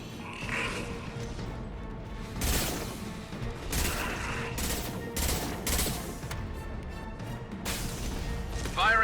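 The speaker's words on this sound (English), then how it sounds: "Firing anti-ship batteries at collector vessel" Heavy weapon batteries in the Mass Effect 2 video game fire on a collector vessel, with repeated loud broadband blasts in uneven bursts over a dense rumbling battle background.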